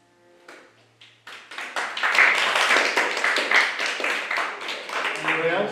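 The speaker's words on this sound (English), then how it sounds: "Thanks for leaving the applause there, Justin." A class audience claps together, the applause building from a few scattered claps into a steady round and then carrying on at an even level, close and fairly loud.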